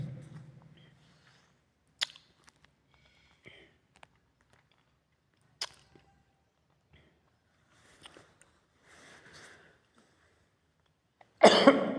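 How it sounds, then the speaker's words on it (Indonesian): A man in a mosque, suffering from a cold and allergy, gives a few sharp, isolated coughs and throat clears separated by long quiet gaps, ending in a louder burst of coughing. "Saya batuk-batuk kena dingin ini pemirsa"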